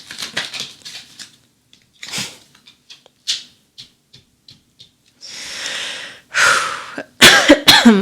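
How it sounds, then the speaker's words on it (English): Scattered clicks and breaths lead into several harsh coughs and throat noises, growing louder toward the end, close to the listener. "Sorry about my cough."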